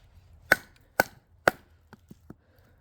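A Work Tuff Gear Wolverine A8Max knife is struck with a baton through wood: three sharp, evenly spaced knocks followed by several lighter taps, close and crisp with no talk.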